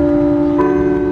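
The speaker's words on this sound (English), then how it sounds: "as long as the church bells continue to ring" A church bell rings out with a steady, sustained hum and overtones, a fresh strike landing midway through.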